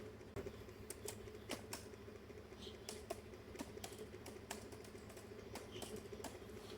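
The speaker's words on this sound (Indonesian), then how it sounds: "Lalu kita ketik aja." Typing commands on a laptop keyboard, heard as a steady run of quick, light key clicks with a few sharper taps, close by over a low background hum.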